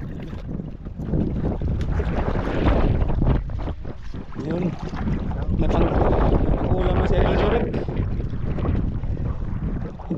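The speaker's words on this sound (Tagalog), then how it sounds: "May bangka mga idolo nagdating." A fishing boat's engine drones over rushing water and wind, with voices talking over the steady noise as the boat comes in.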